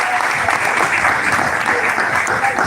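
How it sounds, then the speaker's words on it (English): An audience in Ibadan breaks into sustained applause, a dense, loud clatter of many hands clapping evenly throughout. "Please clap for that."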